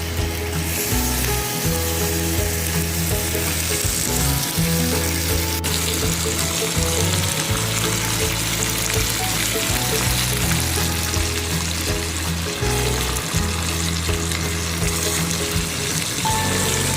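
Bacon crisping in a pan for a tomato egg carbonara, a continuous dense sizzle and crackle with a low hum underneath, close and steady for the whole stretch, no talking.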